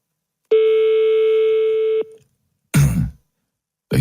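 A steady telephone line tone holds for about a second and a half, then cuts off, followed by two short bursts of noisy handset or line clicks on a French radio phone-in call.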